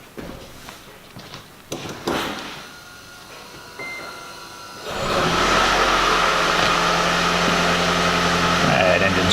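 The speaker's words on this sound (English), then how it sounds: "Let's start the engine and we're going to try this test." A car engine is cranked over and catches about halfway through, then keeps idling with a loud, steady, even drone during an EGR valve test, with quieter handling noises before the start.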